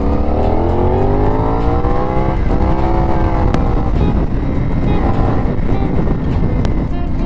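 A CFmoto 450NK motorcycle engine idles close and loud, with a steady rumble and a slight rise and fall in pitch under strong wind noise.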